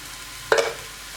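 Chicken keema frying with chilli powder and coriander powder gets one short spoon scrape through the pan, a brief close stroke over a quiet background with no talk.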